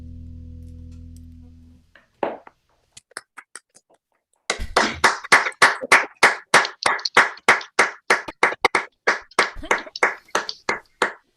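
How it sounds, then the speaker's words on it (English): A held musical note fades out after a live song, then a few scattered claps follow a short pause before a small group claps steadily and close by, sharp distinct claps in an even rhythm. "Love the applause."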